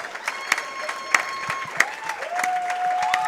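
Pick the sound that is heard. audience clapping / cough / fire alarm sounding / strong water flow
audience clapping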